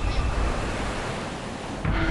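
Ocean water surging during the 2004 Indian Ocean tsunami, a loud, continuous rushing wash of water with a brief louder swell near the end.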